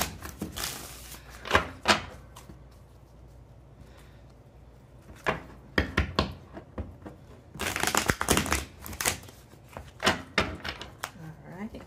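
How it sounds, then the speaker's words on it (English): Tarot cards shuffled by hand in bursts of quick riffling and rustling, a first cluster, a quiet pause, then a longer, denser run of card flutters and taps, close and clear. "So I'm going to shuffle the cards."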